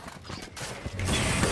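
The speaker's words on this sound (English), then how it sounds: "Reloading." A gun reloads in a video game: a short burst of mechanical clicks and ratcheting metal that builds toward a denser clatter at the end, heard alone and fairly close.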